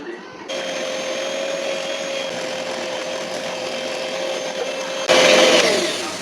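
An electric mixer beats cake batter for a velvet pudding cake, a steady close whine that runs unbroken before growing louder and rougher near the end.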